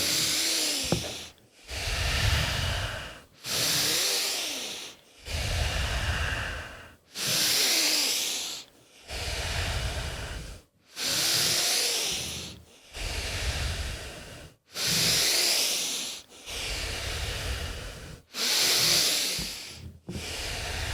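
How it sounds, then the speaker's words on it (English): Slow, deliberate breaths drawn in through the nose during a guided conscious-breathing exercise, close and loud, repeating about every two seconds in a steady rhythm of long airy inhales and exhales with no talking over them. "as we breathe in through the nose in 3"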